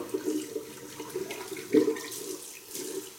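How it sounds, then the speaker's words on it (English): Water gurgles from a sink tap in a small bathroom, quiet burbling bursts close by with a stronger gulp midway, no voices. "Excuse the gurgling, getting water out of the sink."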